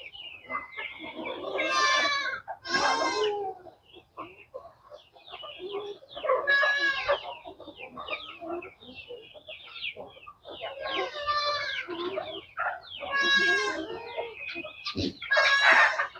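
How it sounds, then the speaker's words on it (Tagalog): Repeated loud rooster crows, one after another, with chickens clucking between them, close and outdoors. "Yan po yung ating mga manok."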